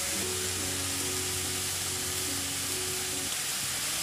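Onion and garlic sizzling in hot oil in a pan, a loud, steady crackling hiss that continues unbroken, with a faint low tonal hum underneath.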